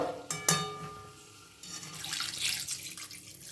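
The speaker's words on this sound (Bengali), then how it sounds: "এবার কিন্তু এই তরকারিতে মশলার সঙ্গে কষা আলুটার মধ্যে ঢেলে দেব জল।" Water is poured into a pan of spiced, fried potato curry: a couple of clanks, then a steady splashing rush of liquid, close and moderately loud.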